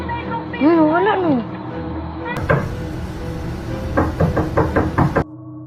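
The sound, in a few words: late-night knocking on a door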